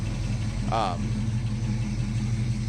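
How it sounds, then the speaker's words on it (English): A 1974 Pontiac Firebird Trans Am engine idles steadily with a low, even rumble throughout, with a brief chirp-like sound partway through. "you can hear that the car sounds good. It runs good."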